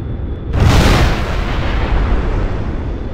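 A loud explosion bursts out suddenly after a half second of quiet, then rolls on as a sustained rumbling blast as helicopters are destroyed during a bombing run in an F-16 flight combat video game.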